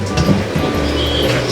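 Water from a shabu shabu hot pot is tipped out and drained, making a brief, steady, close rushing splash with no talk over it.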